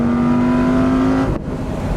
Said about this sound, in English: we're gonna actually go ahead and pull it one more time down into second and listen to that